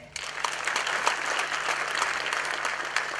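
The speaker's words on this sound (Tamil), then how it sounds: "அவர் நல்ல ஒரு கரகோஷம் கொடுங்க" An audience at a Tamil film audio launch bursts into applause, a short dense spell of clapping that starts abruptly and holds steady for a few seconds.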